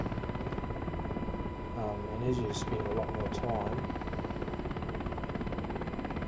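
UH-60 Black Hawk helicopter hovering in a flight simulator game, a continuous droning rotor and engine hum at steady level throughout, with someone talking over it.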